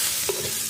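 Radish and potato curry with bori and fresh coriander leaves being stirred in a pan, a brief soft scrape over a low, continuous sizzle.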